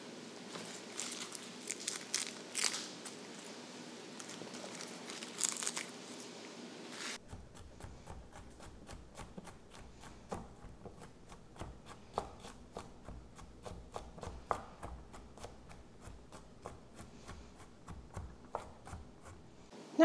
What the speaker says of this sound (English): I might as well go ahead and chop and peel this whole head of garlic